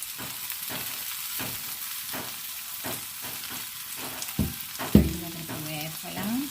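Ginger, green chilli, onion and curry leaves sauté in hot oil for a coconut-based ginger curry, with a continuous close sizzle, steady rhythmic stirring strokes and a sharp utensil clank against the pan.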